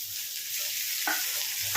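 Onions and green chilies fry in a pan with a dense, bright, steady sizzle, close and continuous, plus a faint scrape near the end and no voices.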